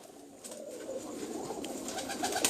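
Pigeons coo softly on a rooftop loft, a low repeated burbling close by, with faint outdoor background noise and no talking.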